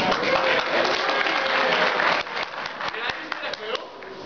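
Audience at a convention panel clapping and cheering, a dense sustained wash of applause that thins into scattered claps, with voices in the crowd underneath.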